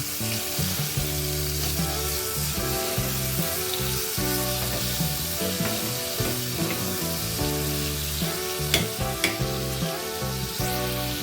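Chopped tomatoes sizzle and cook in a pan with salt, a dense continuous crackle of frying with scattered louder pops and occasional stirring, close and steady throughout.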